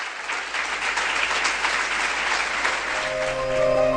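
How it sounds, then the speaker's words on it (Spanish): An audience at a conversion testimony talk gives a full, sustained round of applause, dense and even throughout, with a faint tonal hum rising near the end. "Estos aplausos son para Virgen María y para Dios"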